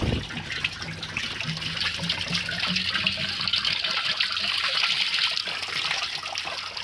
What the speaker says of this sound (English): Now let it drain out.